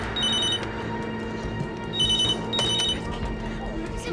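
A telephone rings in repeated bursts from an incoming call, with a quieter pause between rings, heard indoors over a steady background hum.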